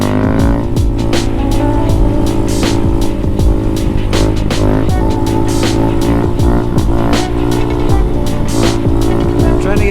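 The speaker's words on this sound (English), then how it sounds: "I'm trying to get better at the second gear wheelies, man." A Honda Grom motorcycle revs loudly and continuously through second gear wheelies, its buzzing engine note rising and falling close by under heavy wind noise, with a voice talking over it.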